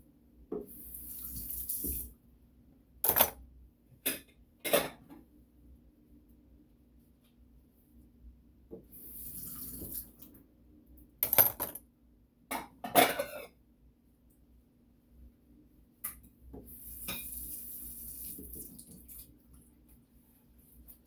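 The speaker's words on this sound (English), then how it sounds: "Wash the surface of a plate. You have to clean every bit of it." Plates and dishes being washed under a running kitchen tap at night, with several bursts of splashing water separated by quiet pauses and a few clinks, heard nearby with no speech.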